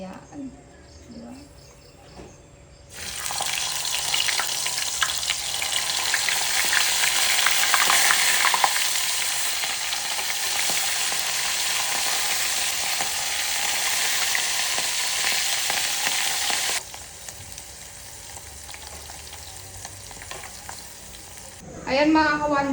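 Dried fish (tuyo) frying in a pan, a loud, dense crackling sizzle that starts abruptly after a few seconds, holds steady for about fourteen seconds, then drops to a softer hiss before a final burst.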